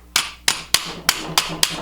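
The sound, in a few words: rubber hammer tapping a pin into a pistol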